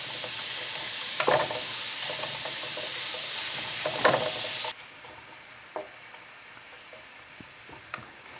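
Green onions sizzle in a hot pan for Japanese-style fried rice, a steady close frying hiss with a couple of utensil scrapes, then the sound drops to a quieter crackle with occasional clicks.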